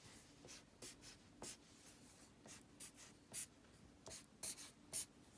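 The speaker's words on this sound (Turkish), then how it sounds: "Evet direkt yerine yazıyorum" Pen or pencil writing answers by hand on paper during a sixth-grade algebra lesson, with soft, close scratchy strokes in short irregular bursts and brief pauses, quiet and alone.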